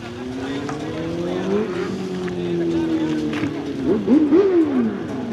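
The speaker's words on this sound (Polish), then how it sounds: "co chwila jakiś nowy, nowy lub zabytkowy samochód wjeżdża" Vintage and modern cars roll into a car rally in Opatów, engines droning steadily with a revving swell near the end, while people talk over the motor noise.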